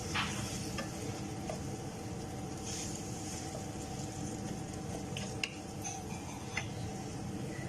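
Chicken keema fries in a pan as a soft, steady sizzle with occasional faint clicks of a spoon, quiet and continuous.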